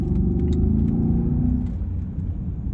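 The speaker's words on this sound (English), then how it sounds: "If you take a corner, it's pretty fast if you give it a little power." A Mercedes S63 AMG coupe powers through a corner, its engine giving a loud, deep rumbling growl that swells and then eases off, heard close and without talk.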